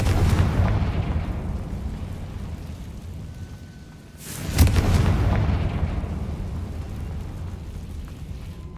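A blasting spell from a Harry Potter wizarding video game detonates with a sudden deep boom midway, following and followed by a dense rumbling wash of game ambience.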